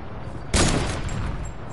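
Video game gunfire erupts suddenly as a dense, loud burst of rapid shots partway through, following a quieter lead-in, with no talking.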